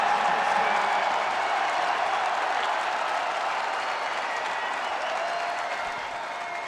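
A basketball arena crowd at a men's tournament game between Washington State and Iowa State roars and applauds loudly in a sustained wall of cheering that fades slightly toward the end.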